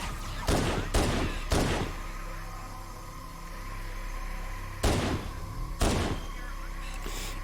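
Enemy gunfire in the video game Halo CE Anniversary comes as several loud, sharp bursts, clustered early on, then two more after a lull over a constant background hum.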